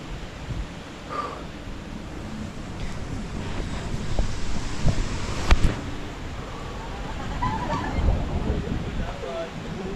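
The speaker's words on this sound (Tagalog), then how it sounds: "Lakas ng hangin dito, guys." Strong outdoor wind buffets the microphone with a continuous low rumble, with occasional faint voices in the background.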